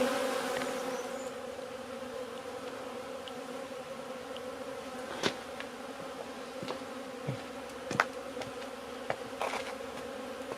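Honey bees buzz continuously around test beehives on a hot day, a steady layered drone of many insects with a few louder bees passing close by.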